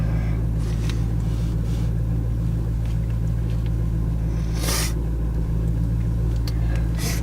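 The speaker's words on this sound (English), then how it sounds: "we're about to go for a test drive" A steady, loud low rumble of an Infiniti Q45 engine and road noise fills the cabin during a test drive after control arm bushing repair, with a brief brighter whoosh partway through.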